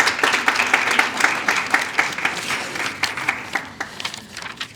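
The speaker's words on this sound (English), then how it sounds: "for those all who got their awards here, you can give yourself a round of applause" Crowd at a community engagement awards ceremony clapping for award recipients, a loud burst of many hands that gradually thins toward the end.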